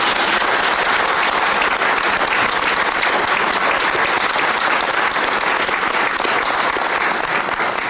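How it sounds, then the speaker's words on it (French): A festival audience at a gospel and Negro spiritual event in Chartres bursts into loud, sustained applause, a dense wash of many hands clapping throughout without letup. "Applaudissez très fort."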